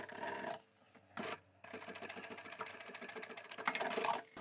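A sewing machine stitching the bottom corners of a fabric pouch, with short bursts of rapid mechanical whirring separated by brief pauses, then a longer steady run of stitching, close and fairly quiet.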